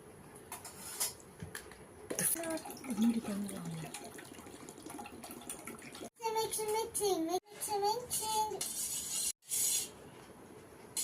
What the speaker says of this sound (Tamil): இதல நம்ம வாட்டர் ஆட் பண்ணிடலாம்